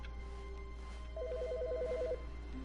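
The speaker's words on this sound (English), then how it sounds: "Somebody's phone ringing." In The Stanley Parable, a phone rings with a rapid warbling electronic trill lasting about a second, heard over a steady low hum of office ambience with no speech.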